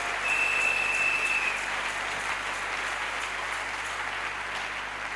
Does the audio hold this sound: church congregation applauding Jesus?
yes